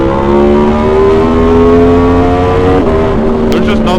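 An Aprilia Tuono V4 motorcycle accelerating hard out of a corner, its engine note rising loud and close in a steady climbing whine, then briefly dipping as it shifts.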